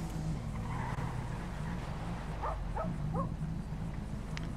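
A dog barks several times in quick succession amid the hum of a car engine in a roleplay driving video game, a few sharp yelps over steady motor noise.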